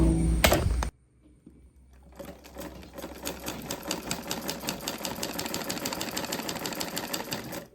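A sewing machine stitches cloth at a steady rapid rhythm after a brief loud handling noise, running continuously and close by with no talking.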